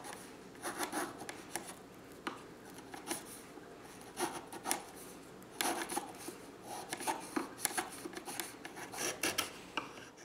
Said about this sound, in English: After the glue is dry, I shave off the extra walnut and clean up the joint.